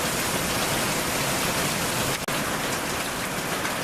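Heavy rain falls outdoors in a steady, dense hiss that fills the whole clip, loud and close, with one brief dropout partway through and no voices.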